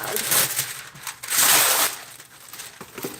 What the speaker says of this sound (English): We're gonna take a piece of parchment paper.